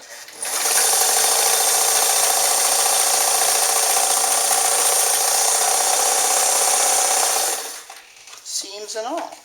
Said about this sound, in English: Probably going to sew right through it.